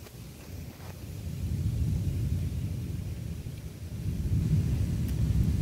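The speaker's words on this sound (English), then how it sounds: "one room or boom of thunder and then just the same exact boom of thunder" Deep thunder rumbles through a severe summer thunderstorm in southeastern Pennsylvania, a low, steady roll that swells a little, heard faintly at a distance with no talking.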